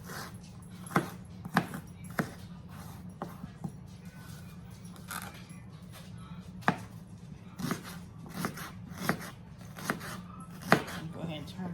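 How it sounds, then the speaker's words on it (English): Onions roughly chopped with a knife on a board, a steady series of sharp, close chops at a loose, uneven rhythm over a low background hum. "do a little rough chop"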